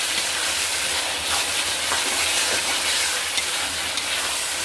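Tomato sauce and chili sauce are stirred into chili chicken frying in a pan, making a dense, continuous sizzle with faint scraping from the stirring throughout.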